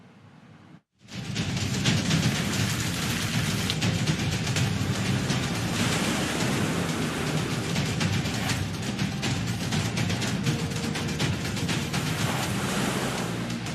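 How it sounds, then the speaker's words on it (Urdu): Torrential rain lashing Gwadar amid strong winds, a dense, steady roar of downpour and gusts that starts abruptly after a brief quiet moment and holds loud and unbroken throughout, with no voices. "گوادر میں ایک بار پھر تیز ہواؤں کے ساتھ موسلا دھار برسات ہوئی۔"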